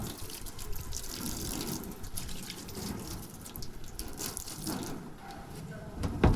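Water runs steadily from a tap in a continuous splashing stream, with light drips and clatter, and a clunk at the very end.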